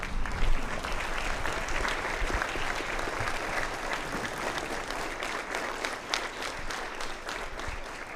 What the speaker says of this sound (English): Students, we would ask you to rise as you exit to applaud the vets